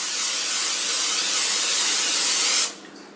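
Cooking oil spray hisses from a can in one continuous, close burst of about two and a half seconds, then cuts off abruptly into quiet room tone.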